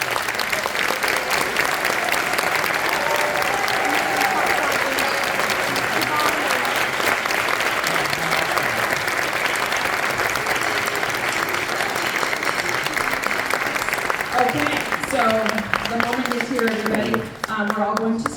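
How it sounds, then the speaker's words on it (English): A concert audience of students' families applauds seniors at a high school spring concert, a dense, steady wash of clapping that fills the whole stretch, with scattered voices and cheers rising near the end. "let's give these seniors a big round of applause"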